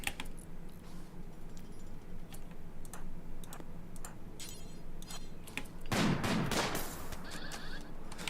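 Gunfire in the colony game Rimworld: a scattering of faint, sharp clicks and ticks across a quiet bed, then a louder cluster of shots near the end.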